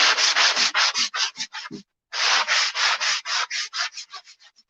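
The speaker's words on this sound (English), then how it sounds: "So I like to sand between coats." Hand sanding painted furniture with fine 120-grit sandpaper on a sanding block, a steady series of close, loud rasping strokes that speed up and shorten toward the end, with a brief pause midway.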